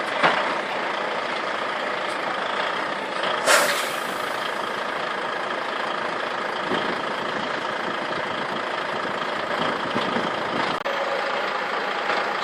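A log transport truck idles at a busy port in Timaru, New Zealand, its engine rumbling steadily and fairly close for several seconds, with a short hiss of air brakes partway through and no talk.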